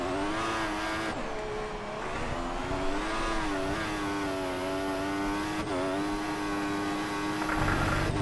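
A Formula 1 car engine in F1 2014 drones steadily at high revs, its pitch dipping and climbing through gear changes and corners, loud and continuous with no talk.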